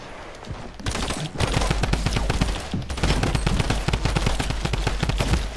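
A drum gun in a video game fires long, rapid automatic bursts. The shots are loud and close, with a short pause between bursts, and they carry on almost without a break to the end.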